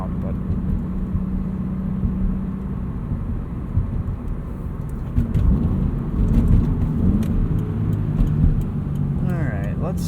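Toyota 86 sports car, a 2017 model, driven on the road, with a steady low engine drone and road rumble inside the cabin that swells midway, heard under someone talking.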